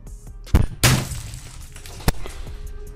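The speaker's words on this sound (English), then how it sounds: "he smashed those keys" A gamer smashes a keyboard in a rage, producing several loud, hard impacts and clattering crashes with rattling debris in between, close and forceful.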